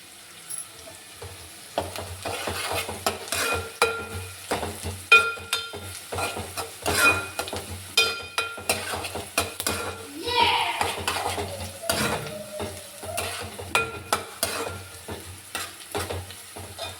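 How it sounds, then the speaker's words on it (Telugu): Curry leaves dropped into hot oil for a Telugu fish curry (chepala pulusu) crackle and sizzle steadily, with stirring, ladle clinks against the pot and scattered pops close by, no talking. "ఇప్పుడు కరివేపాకు వేస్తున్నాను."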